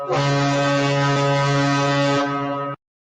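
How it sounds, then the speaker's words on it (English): Loud foghorn sound effect played on a live stream: a single deep, sustained horn blast lasting nearly three seconds, then abrupt silence. "We'll give you a big foghorn for that."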